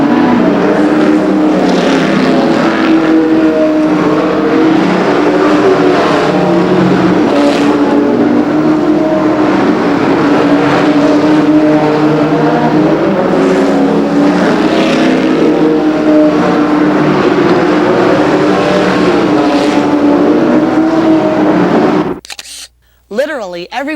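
Stock cars race at Raceway Park in Blue Island, their engines a loud, continuous roar of close-quarter pack racing that swells and fades as cars pass, with a voice talking over it.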